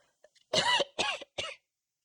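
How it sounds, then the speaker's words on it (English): Three sharp coughs in quick succession, close and fairly loud, after a couple of faint breathy sounds. "Oh my God, I'm coughing."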